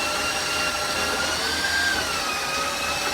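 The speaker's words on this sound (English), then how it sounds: "I'm going to move it up now from, a low setting, medium high." An electric mixer on a medium-high setting beats cream cheese and peanut butter, a loud, steady whirring hum with a slight shift in pitch partway through.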